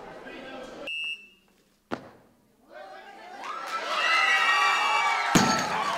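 Shouts and cheers rise from a crowd at a medal ceremony at the Jeux du Québec, broken by a sharp buzzer tone and a slam, then swelling into loud sustained cheering with voices mixed in.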